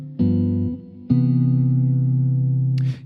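A guitar plays a 2-5-1 progression in C using shell voicings: three sustained chords strummed one after another, the last one ringing longest before fading, with a brief string scrape at the end.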